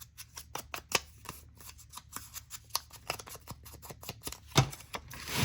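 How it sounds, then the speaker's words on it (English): Paper for a junk journal gets cut with scissors: a quick string of crisp, close snips and rustles, uneven in rhythm, with one louder crunch near the end. "And then I'm going to cut just a tad bit off the top."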